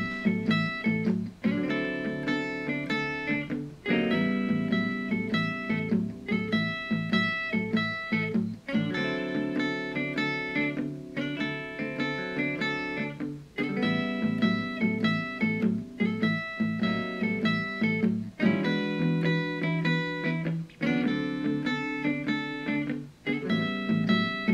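Electric guitar playing a blues lead lick over a 12-bar feel, a busy run of picked notes in repeated phrases with short breaks, steady and fairly quiet, no talking.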